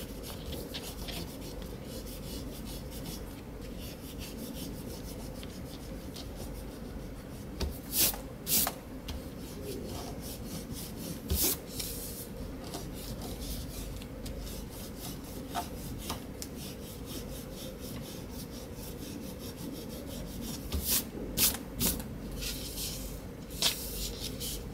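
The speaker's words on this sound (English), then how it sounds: "always pull one direction with your eraser" An eraser rubs steadily across drawing paper during manga inking work, a continuous soft scrubbing with repeated strokes and a few sharper scrapes standing out, close and alone.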